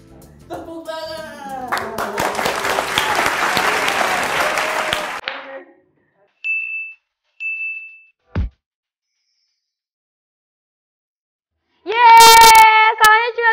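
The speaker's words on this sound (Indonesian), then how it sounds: "Tepuk tangan." Studio audience bursts into applause after a quiz answer, a dense clapping crowd lasting a few seconds, followed by short game-show ding tones and a loud jingle sting.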